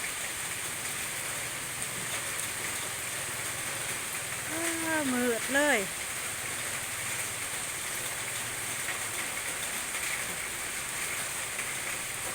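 Heavy rain pours steadily onto rice fields, a constant dense hiss throughout, while a voice speaks briefly near the middle.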